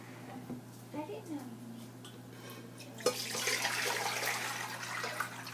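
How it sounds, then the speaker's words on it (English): Three quarts of water are poured into a stainless steel pot for making kombucha. Someone talks quietly first, then a loud, steady rushing pour begins partway through and keeps going. "I am going to pour 3 quarts of water into my stainless steel pot"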